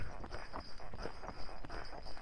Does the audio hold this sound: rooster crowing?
no